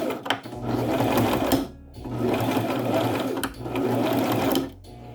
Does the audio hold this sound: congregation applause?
no